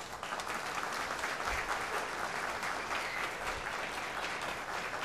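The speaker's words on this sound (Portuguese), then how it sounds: "Peço a salva de palmas para ele." A hall audience at a solemn session of a municipal chamber gives a steady, dense round of applause, many hands clapping together at an even level throughout with no voices standing out.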